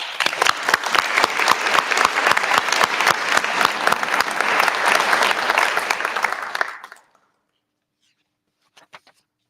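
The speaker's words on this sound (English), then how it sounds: "I think that deserves a round of applause." Audience at a culinary arts school graduation ceremony gives a round of applause, a full burst of clapping lasting about seven seconds before cutting off into silence, followed by a couple of faint scattered claps.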